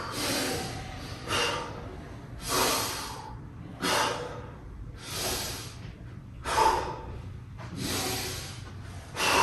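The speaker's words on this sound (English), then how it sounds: "Big breath in, reflex it out." Slow, deep breaths during a stretching and mobility exercise, about seven long airy inhales and exhales spaced evenly and heard close up with no talking.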